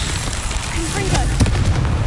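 Confringo spell blast in Hogwarts Legacy, a loud booming explosion with sustained low rumble and crackling debris over about two seconds, a voice speaking faintly beneath it.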